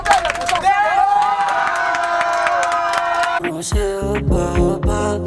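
A film crew cheering and shouting at the end of a shoot, loud crowd whoops and voices over music, ending with a few sharper bursts of cheering.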